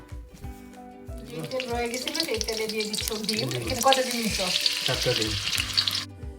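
Chicken pieces fry in hot oil in a wok, giving a steady loud sizzle and crackle. A voice speaks over the frying, and there are brief clinks of metal near the end.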